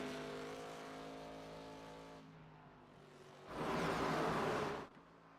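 Race cars roaring around the oval at Phoenix in a stock-car race, a sustained engine drone with harmonic whine, then a louder, brighter burst of a car blasting close past before fading back.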